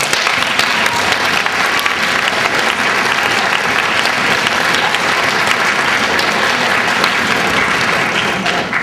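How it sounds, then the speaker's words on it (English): Audience giving a round of applause for volunteers at a community meeting, a loud, sustained, even roar of many hands clapping with no talk over it. "Can I have a round of applause, please?"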